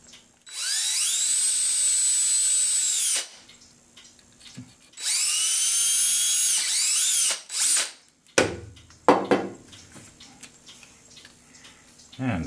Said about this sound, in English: Now just drill this out.